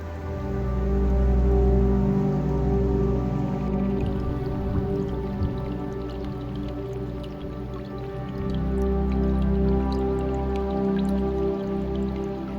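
Steady flowing water from a small homestead stream freshly cleared of fallen trees, a continuous gentle rush and trickle with light dripping, close and unbroken, with no voices.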